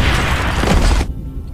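Dynamite strapped to a dog detonates in a film scene, a loud, dense roaring blast lasting about a second before cutting to a quieter rumble.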